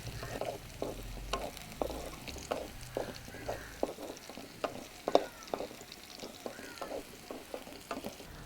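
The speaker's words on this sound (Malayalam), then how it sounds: "മുളകും സവാളയും കൂടെ എണ്ണയിൽ കിടന്ന് വഴറ്റുകയാണ്." Chillies and onion sautéing in oil for a Kerala-style tomato thoran, a soft sizzle broken by repeated scraping stirs of a spoon against the pan, close and fairly quiet, with no voices.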